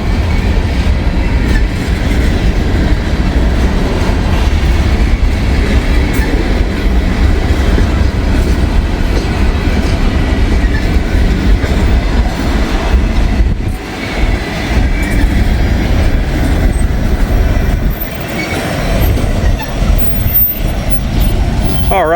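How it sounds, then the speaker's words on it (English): An empty phosphate freight train, B206, rolls past, a loud continuous rumble of wagons with rhythmic wheel clatter and occasional squeal, close and sustained. "B206, an empty phosphate train headed down to Florida, the Bone Valley"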